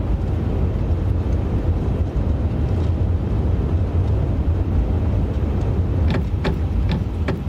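Reverse thrust of a Singapore Airlines A350 on landing in MSFS 2024, a steady, loud, broad roar of engines and rushing air that holds throughout without pause.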